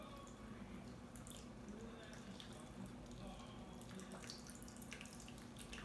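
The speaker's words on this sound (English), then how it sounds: "then we pour the gin" Gin poured into a martini glass already holding a little olive, a soft steady liquid trickle with faint drips heard close against a low room hum.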